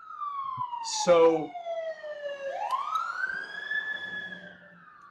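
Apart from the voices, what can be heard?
siren passing outside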